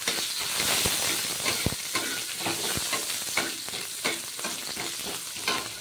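Onion frying in hot oil for a spicy tilapia fish dish: a loud, steady, close sizzle and hiss, broken by scattered clicks and scrapes of stirring.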